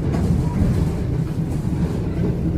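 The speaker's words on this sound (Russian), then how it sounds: "Впервые пересекаю границу на электричке" An electric commuter train rolls across a border crossing, a loud, continuous rumble of wheels and carriage noise heard from on board, with no voices.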